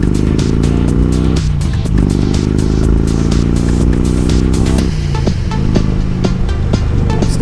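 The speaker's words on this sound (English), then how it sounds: "Still gotta twist that throttle a little though." Loud, low exhaust of a 2007 Harley-Davidson Road King Classic as the throttle is twisted, engine pitch climbing in two steady rises with a drop between, close and continuous with no voices.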